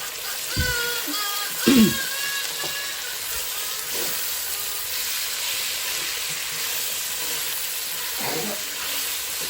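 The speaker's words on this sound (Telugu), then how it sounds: "ఇదిగోండి, చిక్కుడుకాయలు అయితే వేసేస్తున్నాను." Goruchikkudu broad beans added to a hot pan give a steady hissing sizzle, with a few sharp crackles and stirring knocks near the start and faint clinks later.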